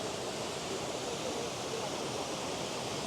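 A Black Forest waterfall in Germany, heard from above after being viewed from below, pours as a broad, steady, close rushing roar with no breaks.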